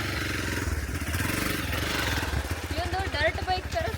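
A dirt-bike style motorcycle engine runs close by on a muddy trekking trail, a rough, steady rumble under a person talking.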